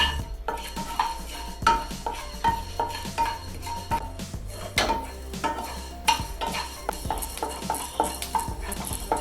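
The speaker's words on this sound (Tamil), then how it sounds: "வெந்தயம் பெனிகிரிக்கை போடுறேன். வறுக்கலாம்." Fenugreek seeds dry-roasting in a pan for a mixed amla and lemon pickle, with a steady stream of stirring and light scraping and clinking of a spoon against the pan, close and fairly quiet, no talking.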